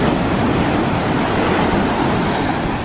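Ocean surf rolls steadily onto the sand at Cocoa Beach, Florida, a dense, continuous wash of breaking waves with wind noise mixed in and no voices.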